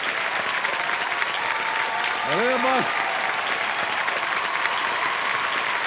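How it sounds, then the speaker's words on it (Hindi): Studio audience applause on a TV quiz show set fills the room with steady, loud clapping throughout, while a voice speaks briefly over it. "थोड़ा बहुत ताली जो है वो शो के लिए भी संभाल के रखिए।"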